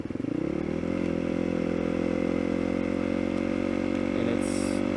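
A motorcycle being ridden, its engine holding a steady, loud drone with a strong harmonic hum throughout, plus faint wind and road clatter; no one speaks.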